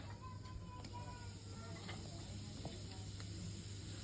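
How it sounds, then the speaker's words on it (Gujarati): Turmeric goes into hot oil for tempering potatoes, giving a faint, steady sizzling hiss that runs throughout at low level, with a few soft clicks from the pan. "તેલ મૂકી દીધું એમાં નાખી દીધું હળદર"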